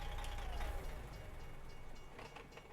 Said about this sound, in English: Now you hear a railroad crossing, too. But if you listen really closely... Because the damn train's coming through now.